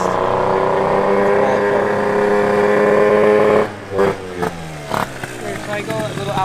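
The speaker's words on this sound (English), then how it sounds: "So that's all carb noise, not even exhaust." A carbureted Audi engine roars loudly and steadily through its intake for several seconds, then the note breaks off and gives way to short engine blips and sounds from nearby.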